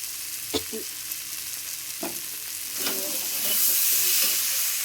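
Tomato with ground coriander and cumin frying in a pan, a continuous sizzle that swells louder toward the end, punctuated by a few stirring scrapes and taps.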